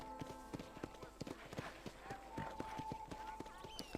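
Hoofbeats of a horse in Red Dead Redemption, quick and evenly spaced at a trot, fairly quiet under sustained game music tones.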